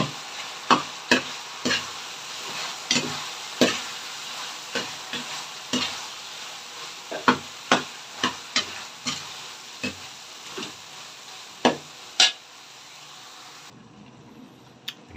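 Ground meat (giniling), about one and a half kilos, sizzling and frying in a pan while being stirred, with a steady hiss broken by repeated sharp scrapes and clacks of the spatula roughly every half second, close and clear with no talk.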